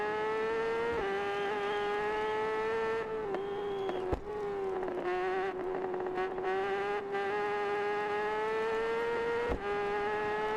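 A motorcycle engine runs flat out in a sustained high-pitched wail, its tone rising slightly with brief dips around gear changes, loud and close with no talking.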